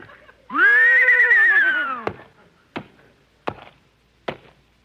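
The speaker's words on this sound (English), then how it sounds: "He really is a smart horse." A trained trick horse gives one loud, close whinny lasting about a second and a half, followed by four sharp hoof taps spaced out like counting, with no talk over it.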